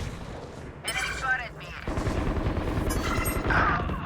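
Video game gunfire comes in a rapid, rattling burst, followed by a brief pause, then a longer rumbling stretch of heavy, continuous shooting and explosions that stays loud to the end.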